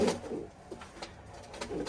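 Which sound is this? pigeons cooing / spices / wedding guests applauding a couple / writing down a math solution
pigeons cooing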